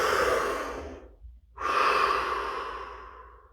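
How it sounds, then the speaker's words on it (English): Two deep, expansive breaths, each a long drawn airy rush, are separated by a brief near-silent pause; they are close and fairly soft, and no one speaks. "Expansive breaths, as deep as you can."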